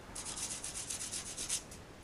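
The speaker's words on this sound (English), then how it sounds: "sanding away the mold line and the excess resin" A sanding stick rubs back and forth on a resin figure, taking off the mold line and excess resin in quick, soft, close strokes with a brief pause near the end.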